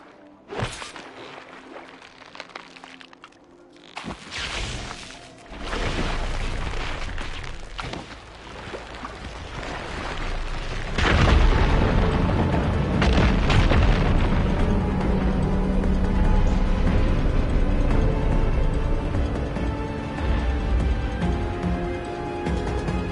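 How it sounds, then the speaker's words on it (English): A fire gleam ignites to blast apart rubble in Horizon Forbidden West, setting off a heavy booming explosion followed by a long, rumbling roar of debris that sustains loudly before tailing off. "Igniting that fire gleam should clear it."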